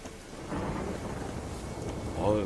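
Thunderstorm weather in The Witcher 3: Hearts of Stone, a low rumbling roll of thunder with steady rain-like wash across the whole span, fairly quiet and continuous, with a faint voice near the end.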